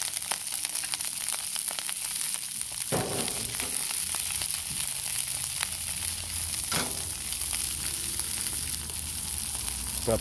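Spring onion leaves fry in hot oil with a continuous, fairly loud sizzle and crackle. A couple of sharper pops and clatters stand out partway through.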